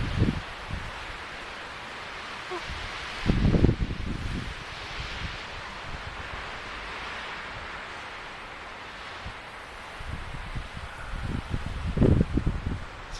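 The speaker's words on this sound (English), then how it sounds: "A lot of wind noise up here." Steady wind on a mountain buffets the microphone, a broad roaring rush with louder gusts thumping in now and then.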